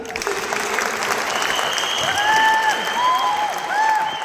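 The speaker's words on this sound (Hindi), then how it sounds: "इसलिए एक जोरदार तालियां।" An audience claps loudly and steadily throughout, with a few whistles rising over the applause near the end and some voices mixed into the crowd noise.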